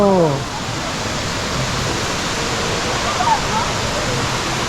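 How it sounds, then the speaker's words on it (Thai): Khlong Nam Lai waterfall in Kamphaeng Phet roars as a loud, steady rush of falling water close by, with a brief voice near the start and faint calls later. "น้ำตกคลองน้ำไหล"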